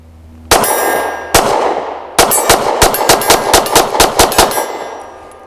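A Smith & Wesson M&P Shield Plus pistol fires a fast string of loud, close shots, each followed by a ringing clang off steel targets. The reports come in quick rhythmic bursts, with the metallic ring lingering between them.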